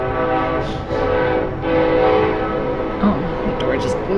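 A train rumbles past steadily and fairly loud, heard through a door blown open by a storm, with a sustained low roar and a few faint knocks over it.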